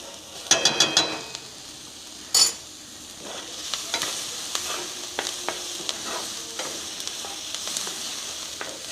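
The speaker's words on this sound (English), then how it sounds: "get ready to add our garlic" Garlic sizzles in a hot pan while a utensil stirs it, with a few sharp clinks and scrapes against the pan early on, over a steady frying hiss during preparation of baked penne.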